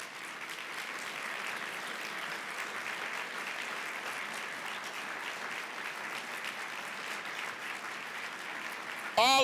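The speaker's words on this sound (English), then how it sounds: "please stand up so we can give you a round of applause" Steady, even applause from a large audience at an annual community breakfast rolls on for award recipients, a uniform wash of many hands clapping with no gaps until it ends abruptly.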